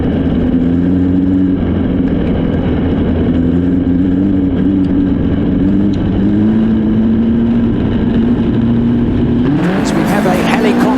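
Race cars at the John Day Classic charge out of turn two in a close pack, engines droning loud and steady with a rising roar near the end; a voice talks over them throughout.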